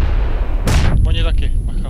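Grenade blasts in the PUBG video game: a sudden loud explosive boom, then a rumbling decay with a second, smaller burst shortly after.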